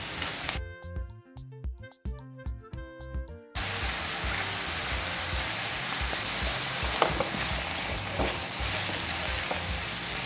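Onion, tomato and bell pepper frying in a pan for Brazilian northeastern green-bean stew. Music plays first, then a steady loud sizzle runs alone for the rest of the clip.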